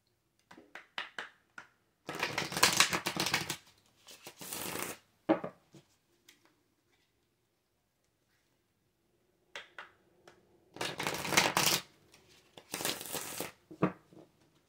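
A tarot card deck is shuffled in several separate bursts of crisp riffling and flapping, close and loud, with quiet pauses between.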